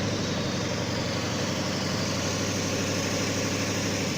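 A Deutz diesel engine on its first start runs steadily up close, a constant low throbbing idle with mechanical clatter, loud and unbroken throughout with no voices.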